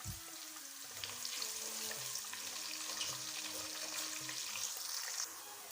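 Onions sizzle in oil with garlic that has already been fried, a close, steady crackle with light stirring scrapes and no talking.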